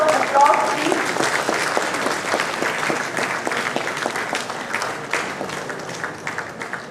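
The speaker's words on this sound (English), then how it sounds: "A big round of applause, please" Applause at an academic department event, steady clapping from a seated crowd that slowly tapers off, with a faint voice briefly audible at the start.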